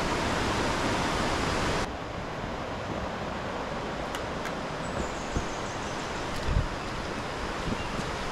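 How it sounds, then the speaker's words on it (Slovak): The Fiji waterfall in a gorge on Bali gives a steady broadband rush of falling water, louder at first and then slightly softer, with a few faint clicks and no talk. "v tejto istej rokline sa nachádza aj druhý vodopád a ten sa volá Fiji"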